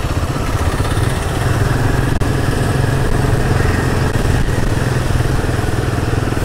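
A Royal Enfield Himalayan 450 adventure motorcycle idles close by with a steady, throbbing engine rumble and some mechanical clatter, loud and continuous with no talking.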